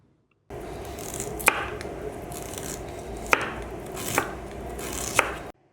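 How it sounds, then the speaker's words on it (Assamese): A knife slices through a peeled, washed radish on a cutting board, giving a few sharp, distinct chops against a steady close background hiss. "মূলাখিনি মই স্লাইচ কৰি লৈছো"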